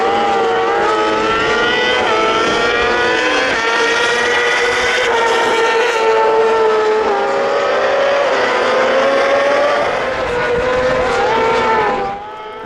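Racing sidecar outfits completing a lap at Knockhill, loud high-pitched engines screaming close by with overlapping rising and falling whines, sustained for several seconds before cutting away abruptly at the end.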